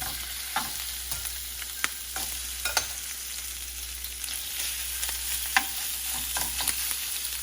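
Jumbo black tiger shrimp sizzle steadily in a hot pan, a continuous frying hiss with scattered sharp pops and crackles, close and moderately loud, no voices.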